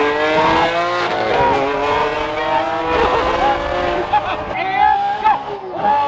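A loud engine revs hard and drops through gears, its pitch rising and falling repeatedly as the sports car, fitted with a new Gintani tune, accelerates close by.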